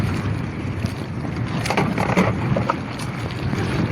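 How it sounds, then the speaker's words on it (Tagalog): Steady wind rushes and buffets the microphone outdoors, a constant loud blowing with a faint watery, boat-like rumble underneath. "Lakas na ng hangin na naman."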